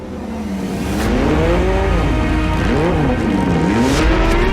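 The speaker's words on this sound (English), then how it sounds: "But the big key in the back is the six-cylinder Boxer with its unmistakable sound." A Porsche 911 GT3 Cup race car with its six-cylinder boxer engine screams loud and close, rising and falling in pitch as it revs through gear changes, with a faint tire squeal.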